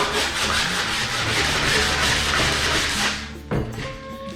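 Coarse sandpaper rubs steadily back and forth across interior wooden window trim in a continuous, close, fairly loud scratchy run that stops near the end, followed by a brief knock.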